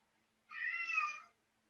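A single domestic cat meows once, a clear drawn-out call of just under a second, close and moderately loud against a quiet room.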